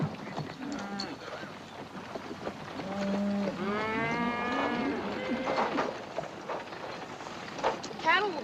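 A cattle herd near a creek crossing in a Wild West setting gives several long, drawn-out moos that overlap and rise from mid-distance over a rumbling outdoor background.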